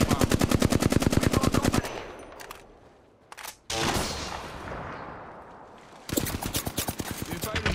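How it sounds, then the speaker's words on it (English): Rapid automatic gunfire in the video game Apex Legends, loud bursts at the start and end with a quieter gap of softer game sounds between. "They're firing on me."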